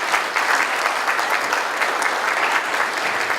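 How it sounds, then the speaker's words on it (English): Conference audience at a justice-involved veterans event applauds to welcome a speaker to the stage: dense, steady clapping from many hands, fairly loud and even throughout, with no talk over it. "Let's give him a round of applause."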